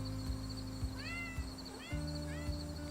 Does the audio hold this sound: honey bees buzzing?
no